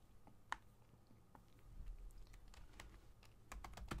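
Soft, close keystrokes on a computer keyboard, a few scattered taps then a quicker burst near the end, faint and otherwise quiet.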